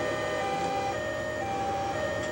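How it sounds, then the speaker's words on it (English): Emergency siren from an ambulance in the video game Grand Theft Auto III during a paramedic mission, a steady loud wailing tone holding throughout over a dense rumble of in-game traffic. "siren sound"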